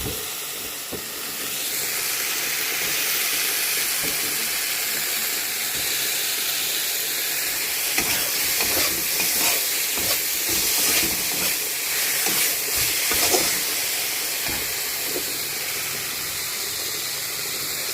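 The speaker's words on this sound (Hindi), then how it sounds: "ये टमाटर भी डाल देते हैं।" Steady loud sizzling and hissing as chopped tomatoes cook in a hot pan continues throughout, with brief crackles and spatters rising in the middle.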